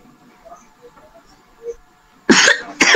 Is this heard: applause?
no